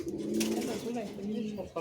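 Madras and Giribaz pigeons in a home loft, with low rolling coos continuing through the moment under a busy background, fairly faint, and ending in a short sharp noise.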